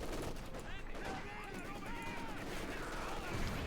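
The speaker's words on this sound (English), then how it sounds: "Double rifle grenade and the machine gun." Rifle grenades and machine-gun fire from the video game Company of Heroes 2 crackle and thump in a busy battle mix, with a voice talking over the gunfire throughout.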